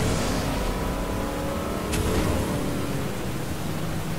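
A boat engine in Fortnite accelerates steadily, a continuous broadband roar with a droning hum beneath and a brief higher whoosh near the middle, loud throughout with no talking.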